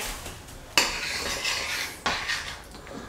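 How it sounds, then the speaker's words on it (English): A spoon stirs a pot of spicy beef curry with lime juice, giving two sharp metallic clinks against the pot followed by soft scraping and a quiet simmer, close and without talk. "Now let's give it a quick mix around"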